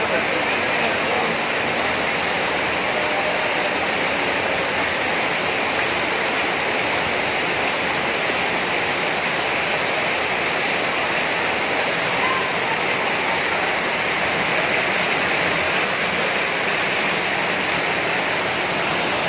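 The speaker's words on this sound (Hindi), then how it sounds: "पानी इस तरह आगे बढ़ रहा है कि जैसे कि नदी में पानी बह रहा हो।" Floodwater rushing through city streets in Chittorgarh after heavy monsoon rain: a steady, loud, broad roar of flowing water that continues without a break, with faint voices mixed in.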